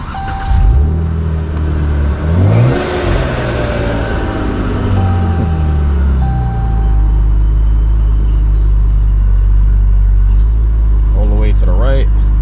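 A Dodge Charger engine cranks and catches, with a rising rev around the start, then settles into a deep, steady idle rumble close by that continues to the end.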